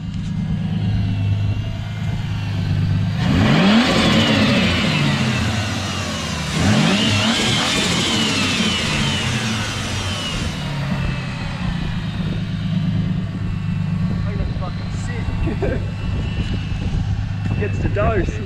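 A Barra turbo-swapped Ford AU Fairmont idles and then revs hard twice, each rise sweeping up to a loud, whining roar before it drops back to a rough idle. Voices can be heard faintly nearby.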